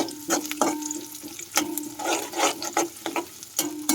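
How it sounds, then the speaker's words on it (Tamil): Thinly sliced small shallots sauté in hot oil, giving a steady crackling sizzle broken by repeated scraping stirs of a spoon in the pan, close and fairly loud, with no voices. "சின்ன வெங்காயத்தை கொஞ்சம் நேர் நேராக கட் பண்ணியிருக்கேன் நான் கொஞ்சம் நல்லா வதக்கி விட்டுக்கலாம்"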